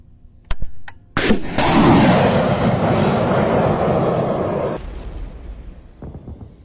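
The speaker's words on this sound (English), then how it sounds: "Tanks and BMPs advance, but they immediately become a target for Ukrainian artillery" Ukrainian artillery strikes a Russian column of tanks and BMPs: sharp bangs, then a loud, sustained roaring blast that lasts several seconds before fading into scattered thuds.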